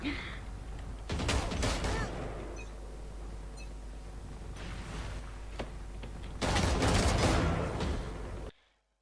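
Valorant gunfire played on a laggy connection: loud sustained bursts of shots roar out in three long volleys separated by quieter stretches of game noise.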